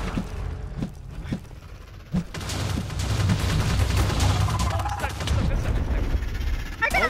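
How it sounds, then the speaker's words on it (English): Explosions going off in a Minecraft mod, a rapid string of bursts and booms that starts sparse and becomes dense and continuous, mixed with game noise and a player's voice talking over it. "Mothman and explosions everywhere!"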